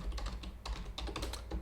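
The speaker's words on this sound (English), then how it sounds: "we'll type in swing trade" Rapid, uneven keystrokes on a computer keyboard, a quick burst of clicks at close range over a low hum, with no talking.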